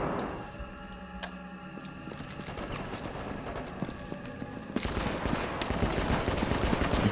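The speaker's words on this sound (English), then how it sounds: "I'm sniping with a light machine gun." Light machine gun fire in Operation Raccoon City, a dense rapid burst of shots that grows louder and fuller after a short stretch of lighter clatter, with no talking.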